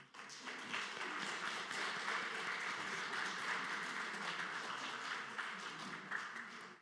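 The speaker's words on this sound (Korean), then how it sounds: "우리 환영하는 박수 하도록 하겠습니다" A church congregation applauds to welcome a visiting retired pastor over ninety years old, during a Sunday service; steady, dense applause from a large room, fairly soft and distant, sustained throughout without talk.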